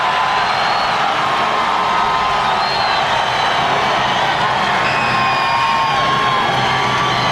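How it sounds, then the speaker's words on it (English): A large crowd of hometown fans at a NASCAR race roars and cheers for Jeff Gordon's win, a dense, sustained wash of cheering and whoops from a distance with no break. "Listen to the crowd."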